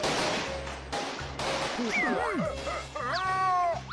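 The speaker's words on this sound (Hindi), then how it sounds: "यहाँ सामने आतिशबाजी हो रही है।" Cartoon fireworks going off in a Motu Patlu animated movie, with sharp bursts, whistling rising and falling tones, and crackling pops layered over steady background music and noise.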